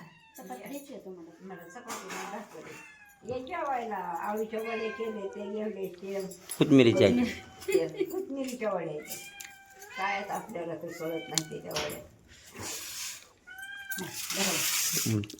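Two small kittens meow repeatedly in high, rising and falling cries, close by, with a few louder squeals among them.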